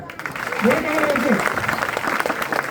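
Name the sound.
audience applause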